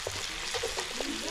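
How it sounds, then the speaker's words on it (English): Steak tenderloin sizzles steadily in a hot pan on Guyana's Linden Highway, a close, continuous frying hiss with small crackles and pops and no talking. "Look at the meat sizzling there"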